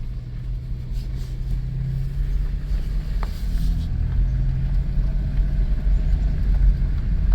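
A 2000 Chrysler Grand Voyager SE, off the road for years and without power steering, drives with a steady low engine rumble and drone, and a gear change is audible partway through, heard from inside the cabin.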